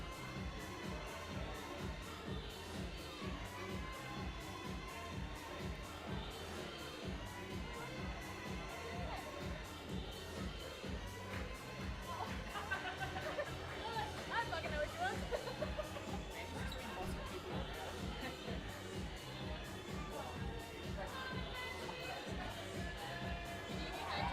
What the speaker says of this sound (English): The crowd really getting behind Mackenzie.